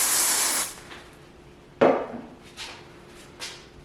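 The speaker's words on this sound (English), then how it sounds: "I'm going to spray it so that it holds" Hairspray hisses from a can onto a pinned-up pinup hair updo in one short burst at the start, then a few sharp knocks and clicks follow.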